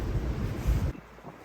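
Gusty wind rumbles and buffets the microphone as something falls nearby, then drops away abruptly into a quieter lull.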